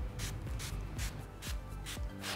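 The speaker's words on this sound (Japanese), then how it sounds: "こうスプレーするだけです。" Mist-type care spray for leather shoes hisses in several short, evenly spaced bursts, each a soft airy puff with faint handling rubs between them, close and clear with no talking.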